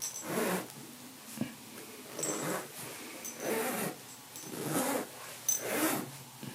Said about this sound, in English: As far as the quality goes on the zipper, here's just a little ASMR.